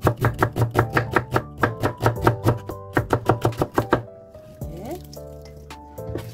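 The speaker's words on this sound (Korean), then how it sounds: "양파를 얇게 썰어주세요" A knife thinly slices a small onion on a cutting board in quick, rhythmic chops, close and crisp, breaking off partway as a voice speaks over a faint background sizzle.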